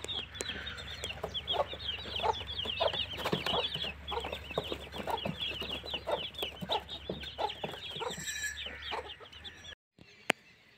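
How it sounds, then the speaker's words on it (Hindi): A hen and her chicks cluck and peep close by in a quick, continuous patter of small calls, with a low steady hum beneath, then a brief pause and a sharp tap. "तो ये देखें मुर्गी के बच्चे और मुर्गी किस तरह"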